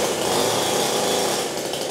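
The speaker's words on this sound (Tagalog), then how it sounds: "Ito po yung inyong chainsaw na 22 inches." A 22-inch chainsaw engine runs steadily at high revs, loud and close, with a harsh buzzing whine throughout and no talking.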